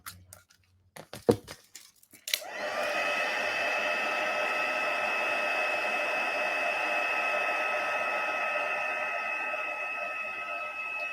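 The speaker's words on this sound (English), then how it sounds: "because my heat gun's warmed up, it doesn't take as long as it did with the flower image" A heat gun blows steadily and loudly for about nine seconds, melting white embossing powder on a stamped sentiment, after a few brief handling clicks and taps at the start.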